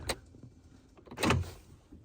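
Door lock actuator on a 2011 Ford F-150 cycling through lock and unlock, giving two short mechanical clunks with a brief whir, the second louder and longer, in a quiet setting.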